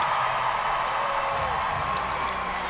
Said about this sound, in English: you hear the reaction from this sellout crowd